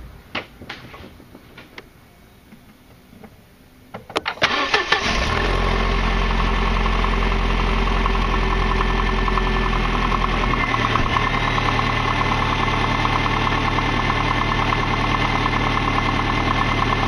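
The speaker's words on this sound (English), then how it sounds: "Okay, and the last step is to start the car and make sure there's no leaks." A Mercedes car engine cranks over and catches after a few quiet seconds, then settles into a loud, steady idle with a low rumbling drone that drops slightly in pitch partway through.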